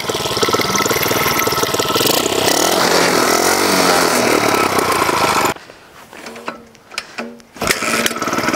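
An earth auger driven by an old motorcycle engine runs loud and close with a rough, steady mechanical roar, then drops to a quieter idle with intermittent revving bursts before surging back to full power.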